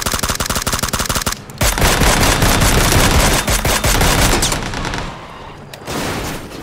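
Rapid automatic gunfire from PUBG on Xbox Series S rattles out in dense bursts, close and loud, with a short pause before another long volley and a few final shots.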